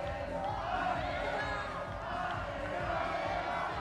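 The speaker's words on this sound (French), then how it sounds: "les joueurs qui sont tous applaudis par le public" Stadium crowd at a youth under-7 football final between OM and SC Cruas at Stade Armand Cesari in Corsica, a continuous dense roar of cheering and clapping with some voices, steady and fairly distant throughout.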